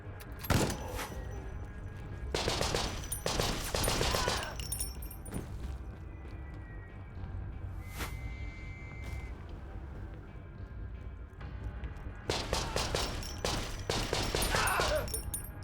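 Mounted turret firing in the war game Conscript, coming in several loud clustered bursts of rapid shots separated by quieter stretches of rumbling background.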